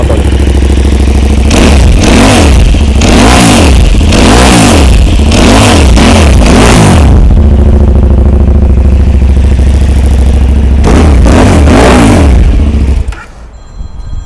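A 2013 KTM SMT990 supermoto motorcycle engine, recently serviced, revs loudly and close in a series of sharp throttle blips with an idle between them, ending abruptly.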